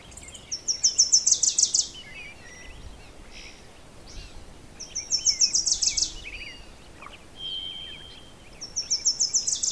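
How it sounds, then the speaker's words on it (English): Birds chirp in repeated bright, rapid trills, three bursts separated by short pauses, with softer calls and faint outdoor background in between. "Sound of birds chirping."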